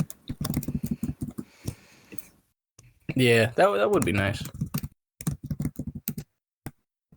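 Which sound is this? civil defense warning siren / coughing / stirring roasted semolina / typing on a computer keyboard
typing on a computer keyboard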